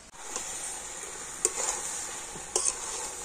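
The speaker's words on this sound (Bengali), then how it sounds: "আলু আর মটরটা তো মশলার সাথে একটু কষিয়ে নিতে হবে" Boiled potatoes and peas sautéing with spices in a pan, a fairly quiet steady sizzle broken by two sharp spoon knocks against the pan.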